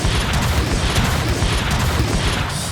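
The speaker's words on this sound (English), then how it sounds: "I can see the explosions from here." Cartoon explosions rumble on without a break during a Decepticon attack, a loud, dense wash of booming blasts with no clear gaps.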